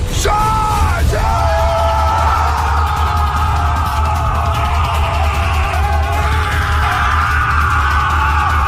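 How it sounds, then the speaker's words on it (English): Several people shout and yell loudly at once, a continuous, overlapping, raucous bellowing that stays strong and close for the full stretch, with no calm speech between the yells. "Stop shouting!"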